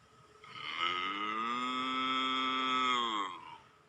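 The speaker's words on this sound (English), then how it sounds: "What animal gives us milk? I know. A cow. Moo." A single cow gives one long, clear, sustained moo, rising and then held steady for about three seconds before fading, alone with no talk.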